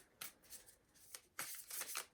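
A deck of tarot cards is shuffled by hand, several crisp, papery riffling bursts in quick succession, close and fairly quiet, with no talking.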